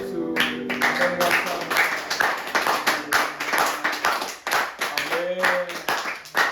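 A church congregation claps together during a Sunday worship service, giving a steady run of dense, close handclaps under a few spoken voices, with scattered louder claps near the end.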